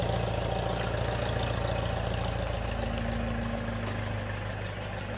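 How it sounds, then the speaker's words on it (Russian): A passing car on a Swiss street gives a steady, fairly loud engine rumble with a low hum, and the sound holds even through the stretch with no voices. "Смотри, какая интересная машинка поехала."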